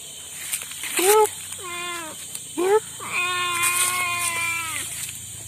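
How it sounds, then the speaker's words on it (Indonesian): A wild forest cat in a Kalimantan forest gives several drawn-out, wavering meows, some short and some long, close by and clear over a faint background hum. "Oh, kucing hutan teman-teman."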